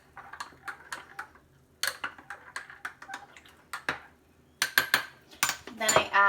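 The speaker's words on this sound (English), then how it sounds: "Stir it." A spoon stirs turmeric hot chocolate in a cup, making bright, irregular clinks and taps against the sides. The clinks come in quick bursts with short pauses between them.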